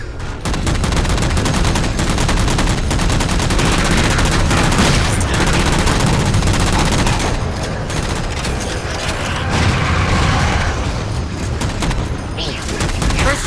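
Sustained heavy gunfire from Halo 4 as players shoot down three jammers, with dense continuous automatic bursts and booms filling the whole stretch, loud and close, with game voices mixed in.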